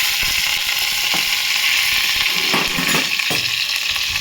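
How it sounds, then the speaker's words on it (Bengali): Cumin seeds and chopped green chillies sizzling in hot oil in a pan, a steady loud hiss with a few short crackles and spoon scrapes. "তেলটা গরম হয়ে আমি জিরা ফোড়ন দিয়ে দিলাম, আর 3-4টে কাঁচা লঙ্কা কেটে রেখেছি, এটাও দিয়ে দিলাম।"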